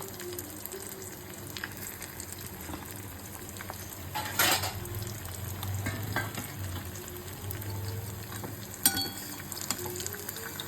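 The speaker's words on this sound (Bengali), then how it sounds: "মাছ তিনটে ভাজা হয়ে গেছে, এই তিনটে তুলে আরও তিনটে ছেড়ে দেবো" Three pieces of fish frying in hot oil in a home kitchen, a steady close sizzle with occasional utensil clinks and scrapes as pieces are turned, no talking.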